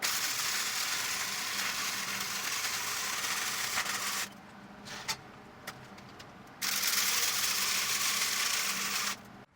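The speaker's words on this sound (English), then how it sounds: "So we'll go ahead and weld this up" Steel backhoe storage cradle being arc welded, a steady loud crackling sizzle in two long passes broken by a quieter pause with a few sharp pops, with no talk.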